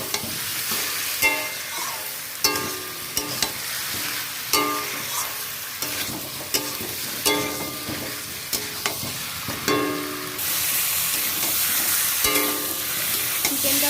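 Chicken frying in a pan with a steady sizzle, broken by repeated scraping strokes of a spatula as it is stirred, close and clear with no voices.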